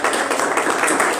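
A church congregation breaks into applause during a Spanish-language sermon, a dense, steady wash of many hands clapping at once, loud and continuous through the short moment.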